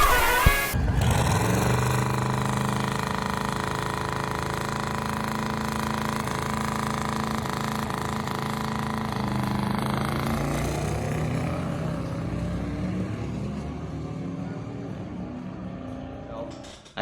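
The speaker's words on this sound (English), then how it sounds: "my car is just super loud, especially with the hood exhaust now" Loud track-day race car with a hood exhaust drones steadily and hard up close, a raspy, buzzing engine note held for most of the stretch, dipping slightly midway before cutting off at the end; a voice talks over it.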